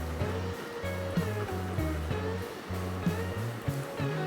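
A sewing machine stitching darts on ball gown fabric, its motor running in a steady low rhythmic chug with a brief pause between runs and no talk.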